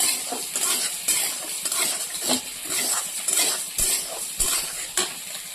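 Eggplant pieces are being mixed by hand with salt and turmeric in a bowl, giving repeated soft squishing and clinking strokes in an irregular rhythm, close and moderately loud.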